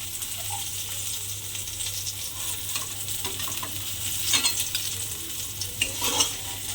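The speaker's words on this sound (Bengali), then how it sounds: "প্রথমে আমি বেগুনগুলো একটু লাল করে ভেজে নেব" Eggplant slices fry in hot oil with a steady, quiet sizzle, broken by occasional scraping stirs near the end.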